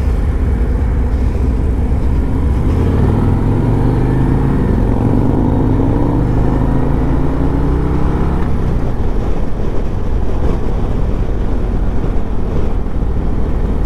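A 2024 Harley-Davidson Road Glide engine drones loudly while riding, rising in pitch through a roll-on of throttle then settling back into a steady rumble with wind noise.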